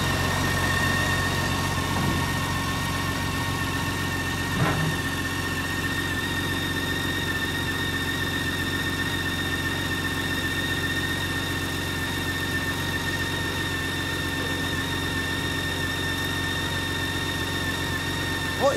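A BMW K1600 GTL six-cylinder motorcycle idles nearby with a steady, even hum that runs unchanged throughout, with no voices over it.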